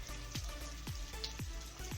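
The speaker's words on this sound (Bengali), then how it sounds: "দিয়ে এটাকে একটু ভেজে নেব, হালকা করে ভেজে নেব" Chopped onion lightly frying in a pan for a mutton curry, heard as a soft, low sizzle broken by evenly spaced stirring strokes roughly every half second, quiet and close.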